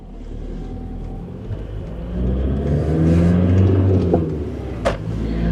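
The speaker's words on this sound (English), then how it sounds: "that engine does get a bit loud as you have to extend it" A Volkswagen Caddy SDi van with a 2-litre non-turbo diesel strains up a steep hill, its engine note climbing and growing louder as it revs hard, loud and close.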